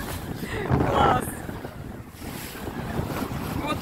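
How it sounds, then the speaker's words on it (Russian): Ocean waves and strong wind roar around a boat on a rough-sea excursion, a steady rushing wash with buffeting microphone wind noise and brief voices mixed in. "О, какие волны!"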